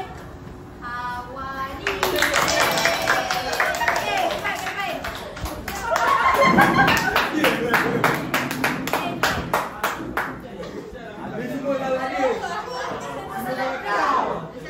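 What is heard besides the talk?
audience clapping for the winning group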